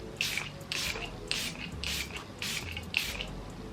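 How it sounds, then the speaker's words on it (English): Five short, airy bursts of Super Dewy Fixing Spray, a misting setting spray, are sprayed lightly across a face. They come in a steady rhythm, close and soft, with no talking. "This is the Super Dewy Fixing Spray. I'm gonna take that lightly across my entire face."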